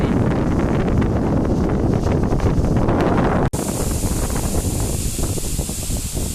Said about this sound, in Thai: ท้องฟ้าสดใสมากครับลมก็แรงมากปีนี้